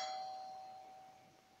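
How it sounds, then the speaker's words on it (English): A doorbell sound effect from a phone app: a single bright ding-like chime struck once, its tone ringing and fading away over about a second and a half. "Doorbell."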